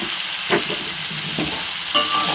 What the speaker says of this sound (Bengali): এই পর্যায়ে আমি কচুরলতিটা দিয়ে দেবো।